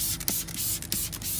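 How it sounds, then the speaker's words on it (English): Water from a hose sprays against a car wheel and inside the wheel well, a steady hissing broadband wash broken by several brief splattering bursts as the stream shifts over the wheel surfaces. "And you can just spray the wheel."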